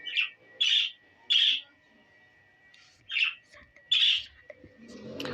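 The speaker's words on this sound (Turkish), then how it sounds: "bu kuş sesleri nerede geliyor?" A bird squawks in the horror video game Granny, six loud, harsh calls in uneven bursts, some with short pauses between them, close and alone with no talk.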